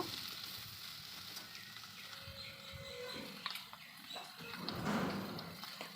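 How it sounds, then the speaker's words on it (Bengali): Snake gourd pieces frying in oil with black cumin seeds, a soft continuous sizzle with faint stirring scrapes and a brief louder burst near the end, close and fairly quiet, no talk. "এবার কেটে রাখা চিচিঙ্গাগুলো দিয়ে দেব, খুব ভালোভাবে নাড়াচাড়া করে নেব"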